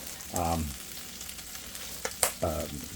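Beef steak frying in a pan for a low-carb beef bowl gives a steady close sizzle, broken by two short tonal clanks or scrapes from the pan.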